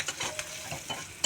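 Onions dropped into hot oil for a tempering sizzle in a pan, a brief crackling burst with a few stirring scrapes, close and fairly quiet.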